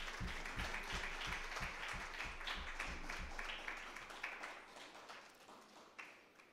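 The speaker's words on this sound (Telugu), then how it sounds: "మా దత్తాత్రేయ శర్మకు ఒక్కసారి అందరము కూడా చప్పట్లు కొడదాం." An audience at an Avadhana training camp breaks into sustained applause for Dattatreya Sharma, dense clapping with a few loud rhythmic claps at first, then tapering off gradually.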